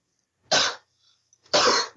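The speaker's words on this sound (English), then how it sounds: "he's a bit of a smoker's cough" Two sharp, harsh smoker's coughs, evenly spaced about a second apart, close by with quiet in between.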